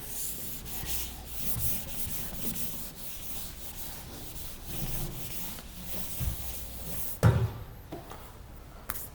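A drawing is rubbed off a board with steady, soft scrubbing strokes, a continuous low rubbing texture lasting several seconds, ending with a few louder knocks near the end.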